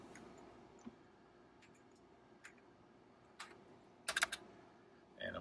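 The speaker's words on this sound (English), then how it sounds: "I'm going to use the numeric keypad here on my not 2GS keyboard" Keys tapped one at a time on the numeric keypad of a keyboard used with an Apple II, a handful of sparse, quiet clicks with pauses between them and a quick double tap.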